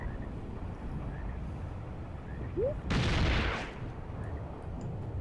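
A single deep artillery boom from a WW2 Eastern Front battlefield simulator, a short heavy blast followed by a rumbling tail over low ambient wind noise.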